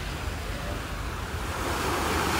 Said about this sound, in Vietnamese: những cơn sóng biển dạt dào, biển sóng dạt dào